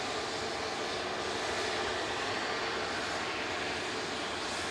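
A passenger airplane arriving from Paris Charles de Gaulle touches down at Manchester Airport, its engines giving a steady, distant broadband roar that holds evenly throughout.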